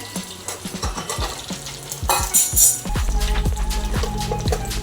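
Mustard seeds, cumin, sesame and curry leaves crackle in hot tempering oil for patra, with sharp close pops and a brief louder sizzling surge as the leaves hit the oil, mixed with spoon clinks and stirring.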